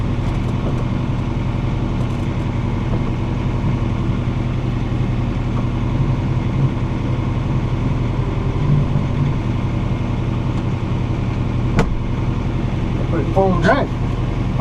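A John Deere 4066R four-wheel-drive tractor drags a box blade through weeds on a driveway, its engine a steady low rumble close by, with a brief sharp click and some faint chirping near the end.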